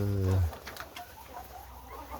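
Chickens, including Brahma, Lohmann and Atak hens, cluck and coo softly in the background after a brief low voice at the start, with scattered faint calls throughout.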